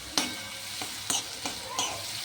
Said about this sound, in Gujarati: આ રીતે તમે તેને સાતળી શકો છો